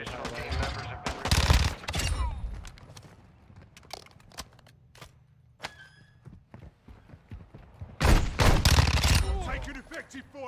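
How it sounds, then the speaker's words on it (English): Shotgun blasts and gunfire in Call of Duty MW2's DMZ mode, two heavy bursts of rapid booming shots separated by a stretch of quieter clicks and footsteps, with players talking over it. "I just seen you get blasted with that shotgun"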